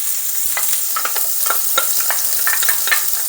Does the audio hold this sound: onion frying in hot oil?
yes